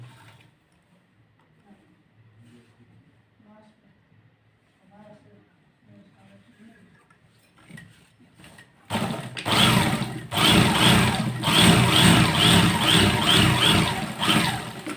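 A sewing machine stitches a Kallidar Punjabi garment. It is quiet at first, then loud and close with a steady motor whir from about nine seconds on. Faint murmuring precedes the stitching.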